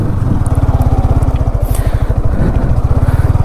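A motorcycle engine putters at a steady, throbbing low rhythm as the bike is turned around on a rough village off-road track in Tamil Nadu, close and continuous with no talk.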